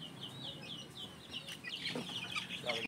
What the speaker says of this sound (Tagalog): Ganyan ang mga sisiw kapag may sense of danger.